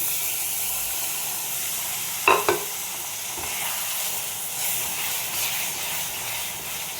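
Milk-soaked semolina added to hot caramel in a pan for halwa: a steady sizzling hiss runs throughout, with two brief sharp spits near the middle, no talking.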